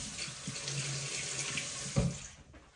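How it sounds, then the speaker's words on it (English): Tap water runs steadily into a kitchen sink during handwashing, a soft close splashing with a brief louder splash near the end before it stops. "I'm gonna wash my hands really quick here"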